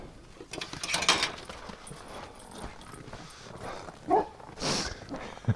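A dog gives a few sharp barks and yips at crackling sounds in a bush amid rustling and scuffing noises, fairly faint and intermittent, in winter.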